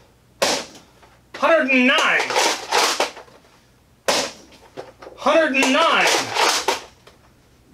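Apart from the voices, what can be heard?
toy blaster firing gold darts through a chronograph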